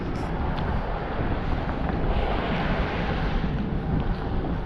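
Wind buffets the microphone in a loud, steady rush throughout a February hike where Baird Creek meets the East River, with no break in the noise.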